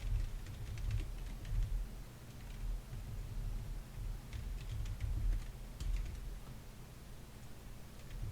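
Code being typed on a computer keyboard, soft quick key clicks in uneven bursts over a low steady hum, with no talking.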